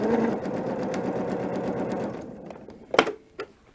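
A sewing machine stitches in a fast steady rhythm with purple thread along tape on a quilt-as-you-go border, close and clear, then stops, leaving a couple of faint clicks.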